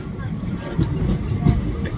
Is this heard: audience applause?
no